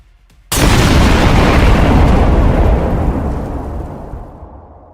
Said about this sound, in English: A second missile hits the Bradley and vehicle stops.